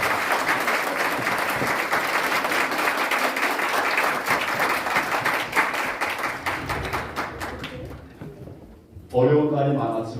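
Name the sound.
audience applause at a forum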